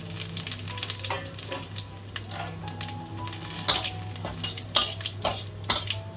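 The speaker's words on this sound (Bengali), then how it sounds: "সর্ষের তেলটা গরম হয়ে গেছে, বেশ যেন ধোঁয়া ওঠা গরম হয়। জিরে, শুকনো লঙ্কা, হোল গরম মশলা, জিরে দিয়ে দিলাম" Cumin, dried chilli and whole garam masala sizzle in smoking-hot mustard oil in a kadai, a steady loud crackling hiss with occasional sharper pops and a few utensil knocks.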